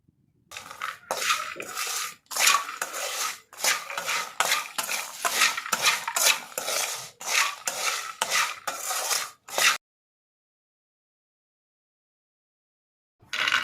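Peanuts being fried and stirred in a pan with salt, chili powder and turmeric for spicy kaaram pallilu: steady rhythmic scraping and rattling strokes for about ten seconds, then silence, with a brief return at the end.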